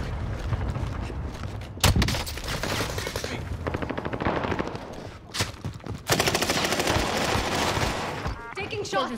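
Rapid gunfire from a first-person shooter video game, dense automatic bursts and single cracks firing almost continuously, loud and close, with a voice talking over part of it.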